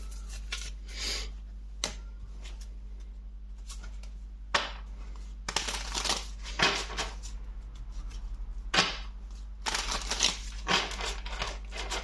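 Tarot cards are gathered and shuffled by hand during a reading, making bursts of papery riffling and flicking with sharp taps and pauses between them, close and fairly quiet, with no talking.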